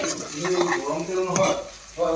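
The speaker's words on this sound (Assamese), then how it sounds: "লাষ্ট ভাজি আছোঁ আৰু একদম পূৰা ড্ৰাই ফ্ৰাই কৰিছোঁ তেলতে।" Nefaphu vegetable and three cracked eggs stir-frying dry in hot oil, with a steady close sizzle and scraping stirs against the pan.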